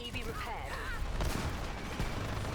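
Gunfire in the online shooter Dirty Bomb on the Bridge map: a dense cluster of sharp shots and clattering impacts, loud and continuous, mixed with game sound effects.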